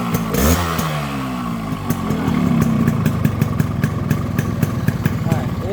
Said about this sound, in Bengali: ইঞ্জিনের একবার জিরো সাউন্ড আপনাদের তো দেখালামই, আরেকবার দেখাই।